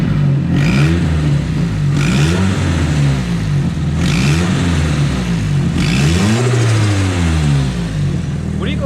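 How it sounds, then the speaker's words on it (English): Nissan Silvia S15 drift car engine revving repeatedly, loud and close, with four rising-and-falling throttle blips and a rattling, clattering exhaust note in between, no talking. "I'll give it a rev"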